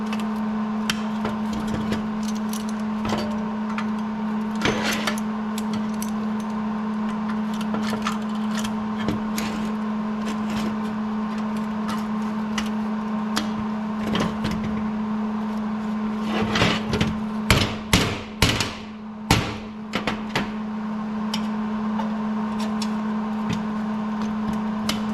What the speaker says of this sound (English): Now I can kind of use my metal hammer here to force the metal down to where I want it to be.